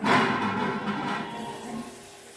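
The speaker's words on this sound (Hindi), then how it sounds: "इसको थोड़ा धो के इसका पानी भी डाल।" Rinsing water tipped from a utensil into a pot of vegetable sambar cooking on the stove, a brief splashy pour that starts loud and fades into a softer trickle.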